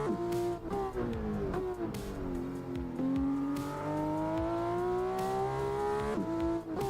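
Car engine in the Assetto Corsa driving simulator, a continuous moderate drone whose pitch climbs steadily through each gear and drops at several shifts, with faint tyre noise beneath.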